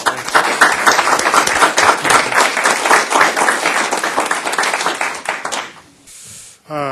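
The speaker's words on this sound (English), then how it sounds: "Take a round of applause for all of the outgoing chairs." Board of directors meeting audience giving a round of applause for outgoing chairs, steady crowded clapping for nearly six seconds before it fades out, followed by a brief quiet gap and a short noise.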